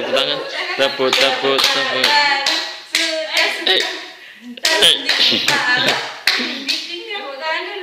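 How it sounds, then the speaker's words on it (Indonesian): A child claps hands in a quick run of sharp taps, mixed with singing voices and chatter throughout. "Tepuk tangan. Tepuk."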